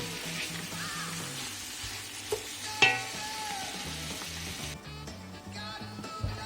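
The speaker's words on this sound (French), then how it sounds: "on fait cuire un petit moment pour que les poivrons soient bien cuits." Onions and bell peppers fry in a pan with a steady, close sizzle and crackle, broken by a couple of sharp utensil knocks against the pan. No one speaks.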